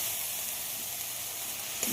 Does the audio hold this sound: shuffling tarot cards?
no